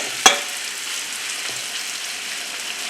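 Steak slices fry in oil in a wok on medium-high heat, a steady broadband sizzle running throughout, broken by one sharp clack near the start and a soft knock later, with no talking.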